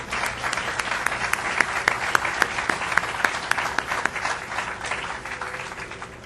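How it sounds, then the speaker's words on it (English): Sustained audience applause at the Glendale Fairmont Avenue Bridge dedication, many hands clapping steadily for about six seconds with a few louder individual claps standing out, no speech over it. "I think we all deserve a round of applause for that success"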